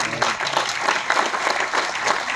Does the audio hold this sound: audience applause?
yes